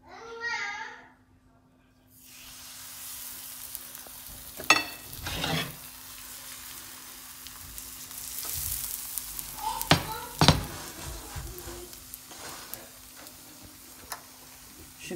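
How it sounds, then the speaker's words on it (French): Crêpes with a heavy porridge batter frying in hot oil in a pan, with a continuous soft sizzle, occasional clacks and scrapes of a utensil, and a voice briefly at the start. "maintenant que mon huile a chauffé, je vais mettre mes crêpes à la poêle."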